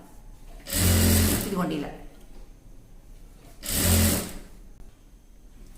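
A sewing machine stitches a thinly folded frock hem in two short whirring bursts, each about a second long and separated by a pause, with someone speaking quietly between them.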